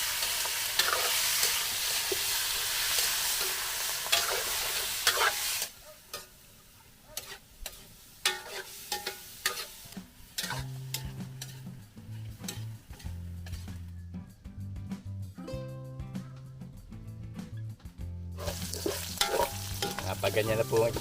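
Meat sautés in a hot pan, a loud hiss at first that drops to a quieter sizzle, broken by frequent scraping and clattering stirs of a utensil against the pan before the sizzle swells again.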